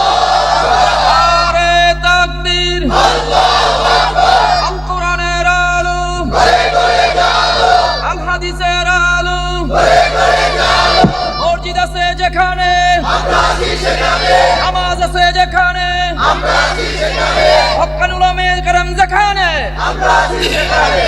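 A large crowd loudly chants the takbir slogan "Allahu Akbar" at an Islamic religious gathering, the massed voices rising in repeated call-and-response bursts with brief pauses between each roar.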